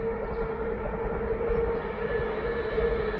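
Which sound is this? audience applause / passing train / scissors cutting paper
passing train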